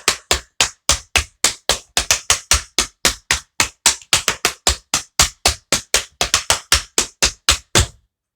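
Rapid tap dance shuffle steps ring out alone as a dense, steady train of sharp metallic taps on a hard floor, ending with a firm final beat, close and loud, from an advanced beginner tap routine set to a pop song.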